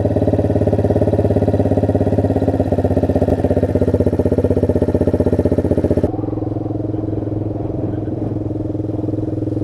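A steady car engine idles too high with a high, even drone and a faint clattery pulse, dropping to a lower, quieter rumble partway through.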